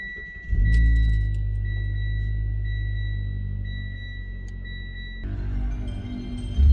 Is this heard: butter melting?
no